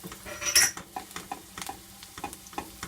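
Onions, garlic and fresh thyme fry in butter with bay leaves nearby. The sizzle is soft and close under busy clicks and scrapes of a utensil, with one louder sputtering burst near the start.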